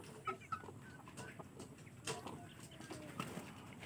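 Young Aseel cockerels clucking, several soft, short calls scattered over a low, faint background with some rustling close by.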